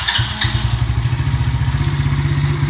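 A motorcycle engine fires up and settles at once into a close, loud idle with an even, thumping beat that continues to the end.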